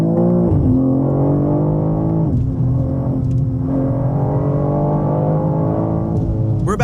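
A BMW M3 CS Touring in Sport Plus mode gives a loud, close, deep engine drone that rises and falls through several rev swells, its steady harmonic growl carrying throughout with no talk.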